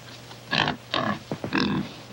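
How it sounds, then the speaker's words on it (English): A pig grunts in a short series of close, throaty snorts and oinks, four or five bursts in quick succession with brief gaps, in a 1951 war film scene. "Nice pig."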